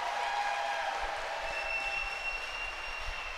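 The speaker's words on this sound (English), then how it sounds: "Listen to this crowd." Wrestling crowd at a tag-team title fight night, cheering and roaring as a team enters the ring, a continuous loud wash of voices and noise filling the arena, steady throughout with no distinct speech.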